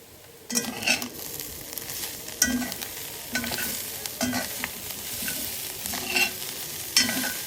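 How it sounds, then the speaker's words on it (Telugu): Spicy masala chicken roast with coriander fries in a pan while being stirred, steady close sizzling broken by repeated scraping strokes of a spatula against the pan; no talking. "మసాలాస్ అన్నీ ఫ్రై అయిపోయిన తర్వాత లాస్ట్లో ఏంటంటే కొత్తిమీర వేసుకొని కలుపుకొని స్టవ్ ఆఫ్ చేసుకోవాలి"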